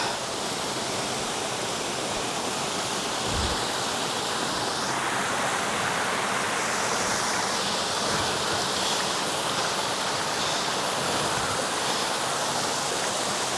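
Water pours steadily at a second waterfall, a dense, constant broadband rush that holds unbroken and fairly close for the whole stretch with no voices over it.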